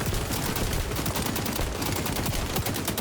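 AK rifle gunfire in the shooter game XDefiant, rapid, sustained automatic fire that stays loud and close throughout with no gaps and no talking.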